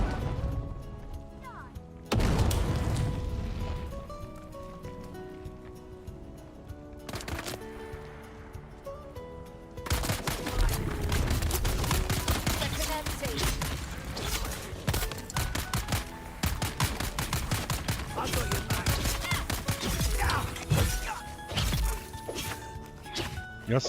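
Gunfire and grenade blasts in Dune Awakening, rapid bursts of shots and sharp impacts, sparse at first then dense and sustained after a few seconds, fairly loud over game music, with talk.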